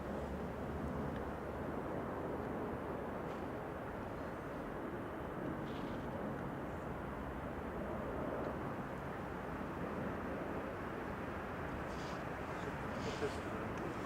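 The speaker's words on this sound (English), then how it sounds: "Is that plane up there maybe?" A plane passes overhead near Manchester Airport on a hazy, sunny day, a constant broad distant engine roar that holds steady for the whole stretch.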